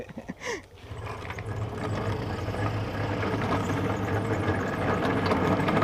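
A homemade drift cycle spins with a steady, close mechanical whir and a ratcheting rattle that builds after a brief opening knock and holds evenly to the end, with no one talking.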